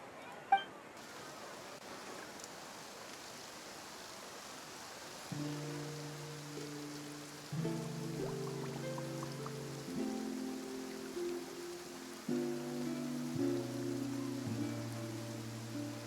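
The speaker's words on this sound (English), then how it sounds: "Looks like rain." Rain falling in the video game Genshin Impact, a steady soft hiss of rainfall that runs under layered, sustained musical tones which enter partway through.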